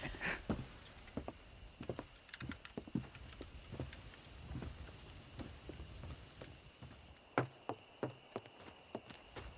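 Horse hooves clip-clop at a walking pace in Red Dead Redemption, irregular close hoofbeats with quiet ranch ambience around them.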